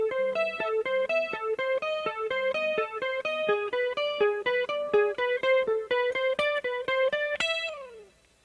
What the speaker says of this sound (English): there's another guitar part, an acoustic guitar part